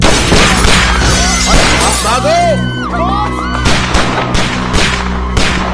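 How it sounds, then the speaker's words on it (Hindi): Loud bursts of gunfire and crashing impacts in a chaotic, dense mix from a Hindi action film scene, with voices shouting and talking under the din. "लगता है कोई गोली चला रहा है हम पे।"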